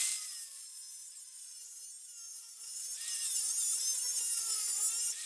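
A cut-off wheel grinds into metal with a bright, harsh high-pitched hiss, starting steady and growing louder and rougher partway through, continuous with no talking.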